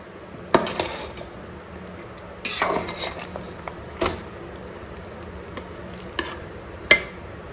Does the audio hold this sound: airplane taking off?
no